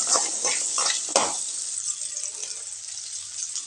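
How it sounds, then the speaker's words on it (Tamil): Small shallots sizzle and are stirred in hot oil in a pan for a Tamil brinjal tamarind curry, a steady frying hiss broken by scraping strokes of a spoon, close and clear. "அதே எண்ணெயிலேயே சின்ன வெங்காயம் வதக்கி எடுத்துக்கலாங்க"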